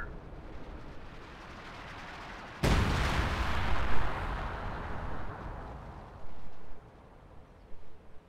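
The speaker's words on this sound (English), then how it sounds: "It's a nice little barrage." A heavy artillery barrage lands in the World War II strategy game Company of Heroes 2, opening with a sudden loud blast, then rumbling follow-up impacts and a further burst of explosions toward the end.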